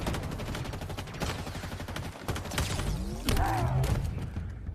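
Pistol gunfire from a Halo video game trailer, a dense run of sharp, loud shots layered over booming music and effects, with no talking.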